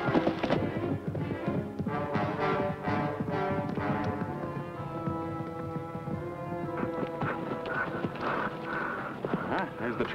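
Horse hooves clip-clop steadily beneath a dense musical score in a vintage TV western scene, the freshly shod horse's rhythmic footfalls fairly close but partly masked by the music.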